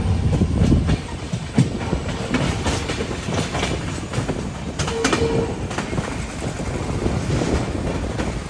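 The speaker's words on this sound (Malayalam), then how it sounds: "ട്രെയിൻ ഇതാ ന്യൂ തിൻസുക്കിയ ജംഗ്ഷനിലേക്ക് ഇതാ എത്തിക്കൊണ്ടിരിക്കുകയാണ്." A train, hauled by a WDP-4D diesel locomotive, rolls into New Tinsukia Junction in rainy weather, with a continuous loud rumble of wheels and carriages, rhythmic clatter and some wind buffeting the microphone.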